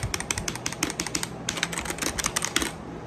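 Clicky keystrokes on a Kreo mechanical keyboard, rapid and close, in two dense runs of typing with a brief gap between them, steady and unaccompanied by speech.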